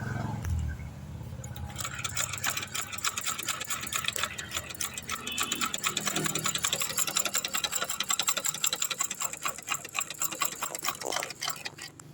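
A sewing machine runs a test seam after a slight screw tightening to fix poor stitching, a steady, fast, rhythmic whirring and ticking that carries on continuously and fairly loud for about eleven seconds before stopping.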